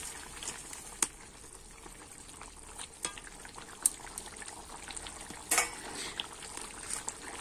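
Cauliflower and potato curry, just sweetened with sugar, is stirred in a pan over a low bubbling and sizzling bed, with a few sharp utensil clinks against the pan scattered through, quiet and without speech.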